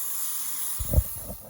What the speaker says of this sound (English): I've been downstairs spraying the hull of the Lusitania